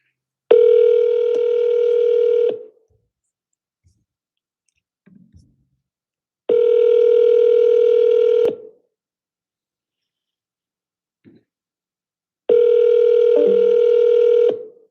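A telephone line rings out on a call to a for-sale-by-owner listing lead: three long, steady electronic tones about two seconds each, evenly spaced with silent gaps, clear and alone with no talk.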